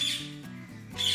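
A Major Mitchell's (Inca) cockatoo at a breeder's aviary gives short, harsh squawking calls, fairly close and steady, with no talking over them.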